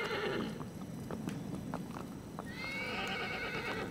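Horse from the video game Shadow of the Colossus gives a loud, close whinny, followed by a run of hoof clip-clops and a second shrill neigh near the end.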